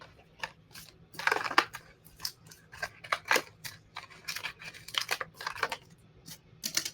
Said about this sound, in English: I want to cut this a little bit here.